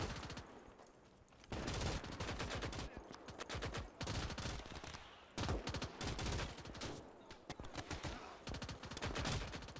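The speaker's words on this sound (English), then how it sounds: "they've been mowed down by German machine guns" Machine gun fire in the World War II game Gates of Hell during a Battle of Berlin fight, long rapid bursts of automatic gunfire overlapping with scattered shots, loud and sustained with brief pauses between volleys.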